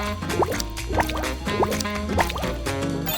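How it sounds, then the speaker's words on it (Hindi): Water drips and plops onto a craft item that swells, giving a run of small, regular liquid drops with a faint trickle, close and clear and with no talking. "अगर हम इस पर पानी डालेंगे तो ये स्वेल हो जाएगा।"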